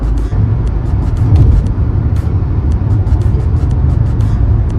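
An SUV cruising on the highway at 110 km/h, heard from inside as a loud, steady low road-and-engine rumble with brief ticks and rattles over the top.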